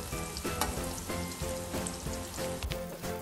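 Chicken katsu pieces frying in hot oil, a steady dense sizzle and crackle filling the whole stretch with small pops scattered throughout, close and alone with no talk.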